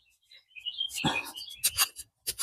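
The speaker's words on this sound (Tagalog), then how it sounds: "Narinig niyo yung ibon kumakanta." Bright bird chirps and a short burst of song, fairly close, mixed with some louder rustling noise.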